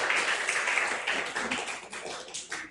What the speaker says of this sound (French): on peut applaudir Vincent